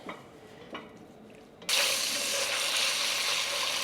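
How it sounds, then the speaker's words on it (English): Bacon browning in a tablespoon of olive oil over moderate heat; a quiet start with a couple of soft knocks, then a sudden loud, steady broadband sizzle that holds at the same level to the end. "saute the bacon in 1 tablespoon of olive oil"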